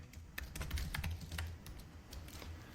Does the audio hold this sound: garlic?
no